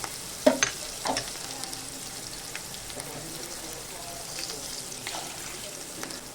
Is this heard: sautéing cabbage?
yes